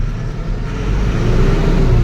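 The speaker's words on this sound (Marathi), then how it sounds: "गाडी काट्यावर घ्या म्हणते गाडी रेस करतो" A loaded truck revs its engine as it pulls onto a weighbridge at a railway goods yard in Sangli, giving a close, low, continuous rumble that swells slightly toward the end.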